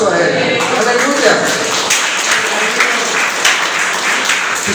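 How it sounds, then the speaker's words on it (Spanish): A church congregation breaks into loud, sustained applause during a worship service, dense clapping close by with voices calling out beneath it. "¿Cuánto le damos un aplauso a Él?"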